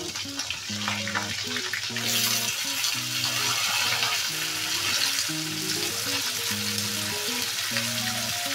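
Sliced eggplant, potato and pumpkin sizzle steadily as they fry in a pan, with the scrape and clatter of stirring repeating throughout, close and continuous, with no talking.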